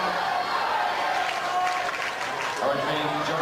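Spectators in the stands at a 2008 state high school wrestling championship match cheer and applaud in a steady, dense roar that lasts the whole moment, with a commentator's voice over it.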